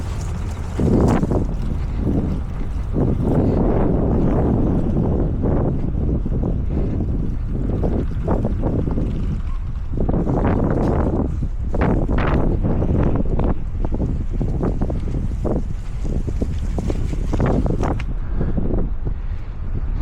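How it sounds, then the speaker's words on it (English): Strong wind buffeting the microphone outdoors on a lawn during spring fertilizer spreading, loud continuous roaring gusts that rise and fall throughout. "Pretty windy day today."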